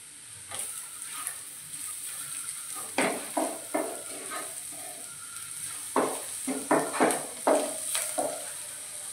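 Turmeric and coriander powder being stirred into tomato chutney in a pan: steady frying sizzle with repeated scraping strokes of a spoon against the metal, close and fairly loud, with no talking.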